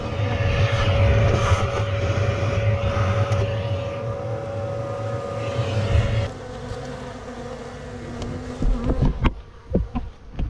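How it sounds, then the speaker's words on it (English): A dense swarm of bees drones loudly and continuously during removal from a water mains manhole, the steady buzz easing partway through before scattered thumps and knocks take over. "we're transferring these bees into what we call bunker boxes"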